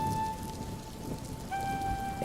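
Steady rain falls in a cartoon scene of a rainy day out fishing, a soft continuous hiss beneath sustained musical tones.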